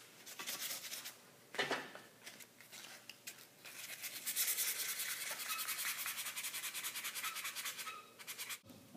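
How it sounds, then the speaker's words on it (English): 320 grit sandpaper rubs back and forth over the steel surface of an old barbell, a soft, steady, close scratching hiss that swells and fades with each stroke and stays faint and continuous. "I've got some, I believe this is 320 grit sandpaper, and I'm going to start by cleaning all this stuff off."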